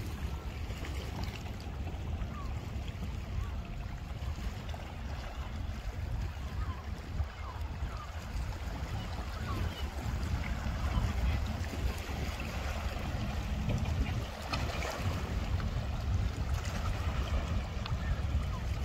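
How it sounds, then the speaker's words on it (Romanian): A sailboat heels under sail among the Saronic Islands of Greece, water rushing and slapping steadily against the hull with a low wind-buffeted rumble, continuous and close throughout. "Pentru că se înclină ceva barca la sailing."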